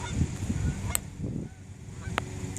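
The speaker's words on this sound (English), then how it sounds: "these guys are on the shortest commute Canadian geese ever have to have" Canada geese on Lake of the Woods at Minnesota's Northwest Angle give a few sharp, nasal honks, one near the start and another later, over a low outdoor rumble.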